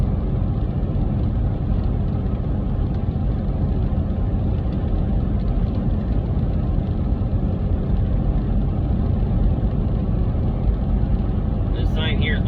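A heavy truck engine drones steadily and loudly going downhill on I-17 South through a mountain pass, a constant low rumble with no break, while a voice talks over it.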